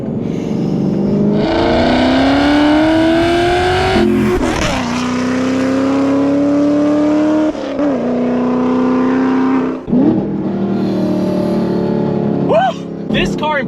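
A Chevrolet Camaro engine revs loud and close, its pitch climbing steadily through several gears with quick rev-matched blips at each shift.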